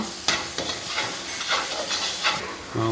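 Garam masala, pepper powder and chaat masala fry in a pan for veg cutlets, a steady close sizzle broken by several soft scraping stirs.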